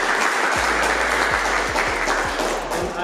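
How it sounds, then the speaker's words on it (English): Steady applause from an audience at an end-of-season club gathering, dense continuous clapping filling the whole stretch at even loudness with no voices over it. "I think we need to give them a round of applause"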